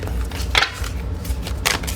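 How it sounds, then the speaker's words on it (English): Short bursts of riffling cards, two or three quick shuffles close up, with a soft rustle in between. "Let me shuffle again."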